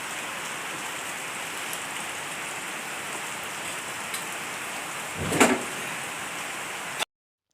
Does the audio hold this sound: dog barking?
no